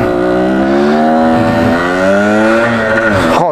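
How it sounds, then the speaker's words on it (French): A Yamaha DTMX 125cc two-stroke motorcycle engine revs up and down loudly nearby, its buzzing pitch rising and falling before cutting off abruptly. "Oh le moteur comment il gueule."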